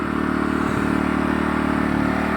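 A NIG GNR 3050 inverter generator runs at steady idle with a constant, even engine drone and a faint rattling clatter, loud and close, with no talk over it.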